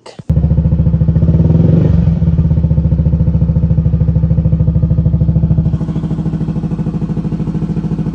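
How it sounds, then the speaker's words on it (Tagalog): A scooter engine fitted with a TRC exhaust pipe and no silencer idles and revs, giving a loud, raspy, rapid-pulsing drone close up that holds steady throughout, with one brief swell in the middle. "ayun yung walang silencer na TRC pipe."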